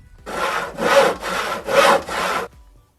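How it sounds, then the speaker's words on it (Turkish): A tree is cut down in an MTA roleplay video game. Five even, rhythmic rasping strokes sound like sawing through wood, loud and close, then stop. "Böyle biz tekrardan eski ağacımızı kırmaya geldik arkadaşlar."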